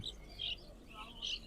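Small caged birds at a bird market give a few short, high chirps, faint against a low background hum.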